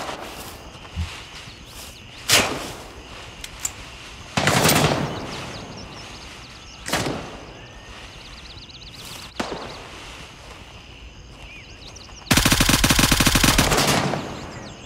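Gunfire in the tactical shooter Gray Zone: a handful of sharp single shots spaced across the stretch, then a long loud machine-gun burst near the end, with soft footsteps between.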